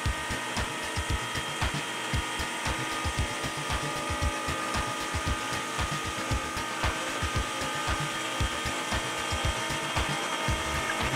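Basswood being cut by a power tool that takes shallow 2 mm passes, giving a loud, steady motor whine with rapid, rhythmic chattering cuts running throughout, close up and without speech.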